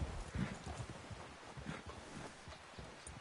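Horse hooves clip-clop on the ground in Red Dead Redemption 2, a light uneven gait of muffled thuds under a steady bed of outdoor ambience, with a brief voice and no clear neigh.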